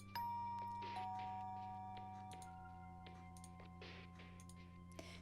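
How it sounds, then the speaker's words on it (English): A doorbell chime rings once with two sustained tones that fade slowly, followed by near silence with faint room noise. "I ring the doorbell again"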